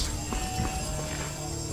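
In the Skyrim video game, a horse walks with soft, steady hoof clops over a constant background hum. No voices are heard.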